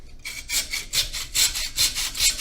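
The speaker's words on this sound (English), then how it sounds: "I'm going to cut it out with a hacksaw." A hacksaw cuts through porous Pukani dry rock in steady, rhythmic strokes, each a rasping scrape about half a second long, close and fairly loud with no talking.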